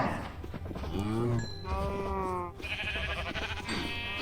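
Cattle mooing in the Minecraft video game on a farm where cows and sheep are being bred, several drawn-out moos in a row, loud and close, with no talk over them.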